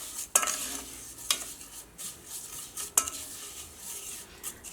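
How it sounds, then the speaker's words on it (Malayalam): Vermicelli roasting in ghee over a low flame, stirred in a pan: faint continuous sizzle with several sharp scraping clinks of the spoon against the metal, close and quiet, no voices. "ചെറിയ തീയിൽ വെച്ചിട്ട് സേമിയ നെയ്യിൽ വറുത്തിട്ട് എടുക്കുക"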